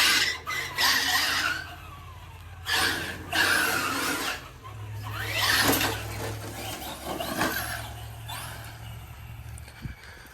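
Small tires on a Traxxas Slash RC car with modified Traxxas tires squeal on concrete in several short bursts, some scrapes rising sharply, over a steady low motor hum.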